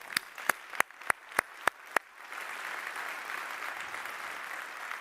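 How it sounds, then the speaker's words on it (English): Audience applause for AUSA at an Association of the US Army global force symposium: a few sharp, loud claps at the start, then a steady wash of crowd clapping that carries on evenly to the end. "Can we give them a round of applause?"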